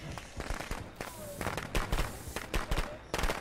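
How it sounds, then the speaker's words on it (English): Firecrackers in the Friday the 13th video game crackle in rapid irregular bursts of sharp pops, fairly close and loud, with a voice talking over them. "There's clearly firecrackers!"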